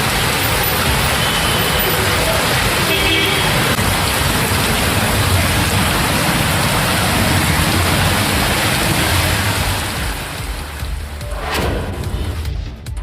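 Heavy rain pours steadily in Theni district, Tamil Nadu, a dense, loud, unbroken hiss of water on surfaces for the whole stretch, easing slightly near the end.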